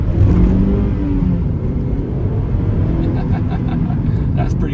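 A 2009 Toyota Corolla XRS with a 5-speed manual drives and accelerates, its engine note rising as it pulls away, loud and close from inside the cabin, with a person talking over it.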